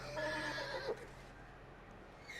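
A horse in Red Dead Redemption 2 gives a loud, close whinny lasting about a second, followed by quieter ambient game sound.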